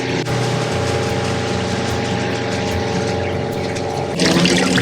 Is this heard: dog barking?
no